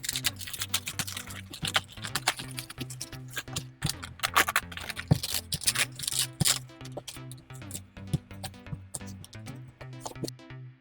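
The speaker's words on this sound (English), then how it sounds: "peel off the paper" Paper is peeled and picked away from sewn fabric on an off-shoulder ruched sleeve, giving a busy run of close, crisp crackles and tearing ticks.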